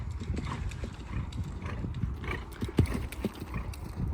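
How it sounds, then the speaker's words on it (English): A horse canters in a dressage arena during a competition, its hooves thudding in a steady three-beat rhythm on soft footing, fairly close and unaccompanied by talk. "Good rhythm in the canter."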